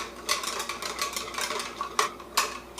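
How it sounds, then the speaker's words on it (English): Light whisking of an egg mixture in a small bowl while making homemade donuts, a soft, quick run of clinks and scrapes repeating at close range with no talking. "now you're just going to give this a light whisk"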